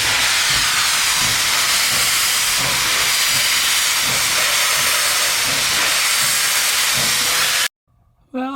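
Steam hisses loudly and continuously from a Nickel Plate steam locomotive, a broad roaring blast heard up close that cuts off abruptly near the end.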